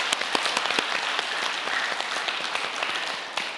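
A large crowd applauds at a mass peace blessing wedding ceremony, the dense clapping steady and sustained throughout with no pauses.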